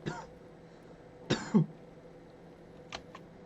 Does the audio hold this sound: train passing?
no